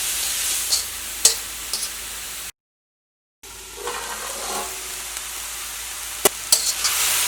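Vegetables sizzle and fry in a pan while a utensil stirs them with occasional scraping clinks, steady close hiss broken by a short gap of silence.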